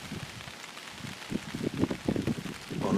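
Rain patters on a tarp at a cold wild camp, a dense, irregular drumming of drops that grows slightly heavier toward the end, heard up close with no talking.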